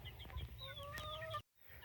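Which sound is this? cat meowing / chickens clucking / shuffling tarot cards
chickens clucking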